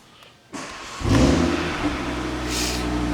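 An Audi TT-RS Vorsprung turbocharged engine cranks briefly and fires, rising into a loud, close rev before settling into a steady, rumbling idle with a light second swell near the end.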